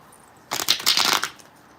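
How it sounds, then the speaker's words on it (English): A quick riffle of playing cards being shuffled, a brief crisp flutter lasting under a second in an otherwise quiet room. "Wait, I cannot shuffle right now."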